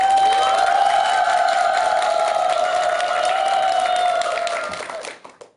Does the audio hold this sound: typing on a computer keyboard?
no